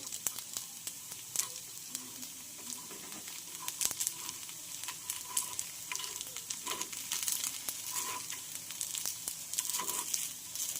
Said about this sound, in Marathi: छानपैकी असं आपल्याला हे अप्पे परतून घ्यायचे आहेत तर हलक्या हाताने आपण हे अप्पे परतून घेऊया